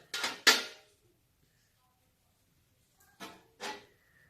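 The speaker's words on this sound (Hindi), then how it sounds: "ये पानी डाल लेने के बाद मैं इसके ऊपर ये जाली रख दूंगा" A metal steaming rack is set onto a pot holding water, making sharp close metallic clanks in two pairs separated by a few seconds of quiet.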